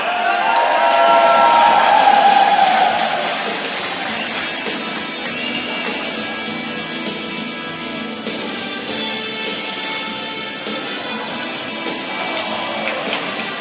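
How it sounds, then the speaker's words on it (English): Cheering crowd of Royals fans at an ACHA Division II college hockey game against Brockport during a shootout, a loud sustained roar swelling at first then settling into steady arena noise with scattered whoops. "Keep the cheers for him, guys."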